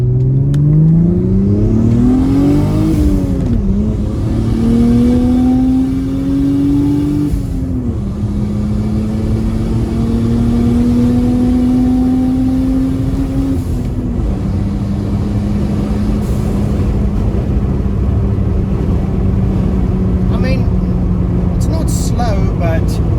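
Mercedes 3.2-litre M104 turbocharged engine accelerating on an open road, a loud, steady drone that climbs in pitch through the gears with brief dips at each shift, heard from inside the car.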